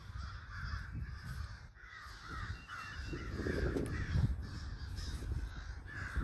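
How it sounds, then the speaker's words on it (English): A large flock of red-winged blackbirds calling outdoors, a dense continuous chorus of harsh overlapping calls at middle distance with no speech. "red-winged blackbirds."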